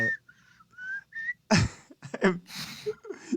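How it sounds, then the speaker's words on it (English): A person whistles a short tune in three clear phrases during a tabletop role-play session, followed by a cough and throat clearing, then brief talk close to the microphone. "I start whistling Patty's theme as we're walking"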